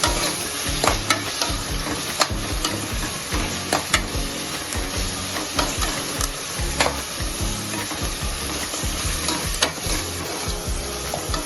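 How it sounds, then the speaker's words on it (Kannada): Onions frying in oil in a home kitchen pan for avrekal usli, a steady dense sizzle with frequent stirring scrapes and clicks, close and continuous throughout with no talk. "ಸೊ ಇವಾಗ ಆನಿಯನ್ನ ಸ್ವಲ್ಪ ಲೈಟ್ ಬ್ರೌನ್ ಆಗೋವರೆಗೆ ಫ್ರೈ ಮಾಡೋಣ."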